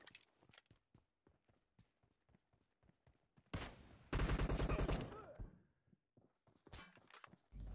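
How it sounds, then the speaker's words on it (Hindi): Sniper rifle gunfire in PUBG Mobile during a team deathmatch, heard as a few sharp, loud shots among footsteps and other game noise, with a dense burst of firing in the middle of the clip. "और यहाँ पर मैं आखिरी किल स्नाइपर से करने की सोचता हूँ।"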